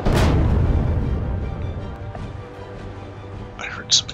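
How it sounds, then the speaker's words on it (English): A deep explosion booms up close in the space survival game Empyrion Galactic Survival, a single heavy blast at the start that rolls off and fades into a low rumble, followed by a few faint clicks. "I heard some explosions."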